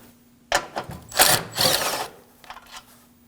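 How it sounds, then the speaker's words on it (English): A 10mm bolt comes off the battery duct of a Honda Pilot, heard as a few short ratcheting and whirring tool bursts, close and fairly loud, with quiet gaps between them. "We'll remove our 10mm bolt for our battery duct."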